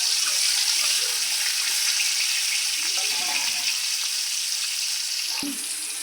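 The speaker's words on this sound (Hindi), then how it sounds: "अंडा टिके फ्राई कर देबा" Boiled eggs for egg curry fry in a pan with a loud, steady sizzle and faint bubbling, broken by a brief clink near the end, with no speech.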